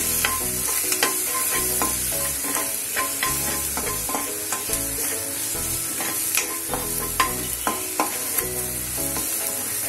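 Onion sautés in hot oil with asafoetida, cumin and coriander powder for palak paneer, a continuous close sizzle broken by repeated scraping stirs of a spoon against the pan.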